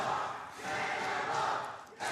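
Wrestling crowd at a Panther Brawl event cheering for Manimal, a dense, sustained roar of many voices that swells and dips, with a commentator faintly under it.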